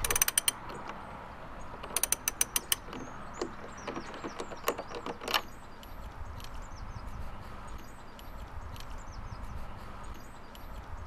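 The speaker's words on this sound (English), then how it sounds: "then we tighten up with the ratchet spanner" Ratchet spanner tightening a nut outdoors, bursts of quick clicking rattles in the first half over low background rumble, then fading to quiet ambience.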